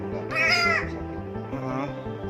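An albino crow gives a pair of hoarse caws close by, the first louder and longer, the second shorter, over a steady background hum with some faint voices nearby.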